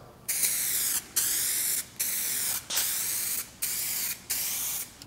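Spray gun laying down a final clear coat over repaired peeling clear on a car, six even hissing bursts of about a second each separated by short pauses, close and steady with no talking.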